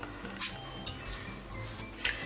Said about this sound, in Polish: I wszystko razem mieszamy w tym garnku.